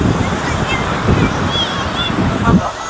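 Waves wash in steadily under gusty wind buffeting the microphone at Murdeshwar beach in summer, with a person speaking briefly over the surf.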